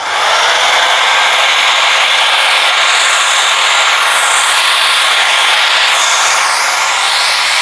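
A DongCheng DZJ02-13 wall drill running steadily as a drill press, giving a loud continuous high-pitched motor whine with a dense hiss that holds evenly throughout, with no voices.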